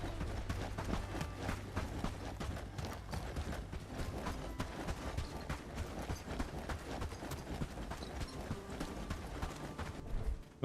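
Heavy, loud footsteps thud steadily through dirt in the medieval survival game Bellwright, the stomping cadence running continuously over a busy ambient game soundscape.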